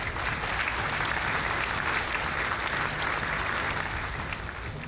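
Steady, dense crowd applause sound effect in the video game Darkest Dungeon 2, continuous and fairly loud throughout with no pauses.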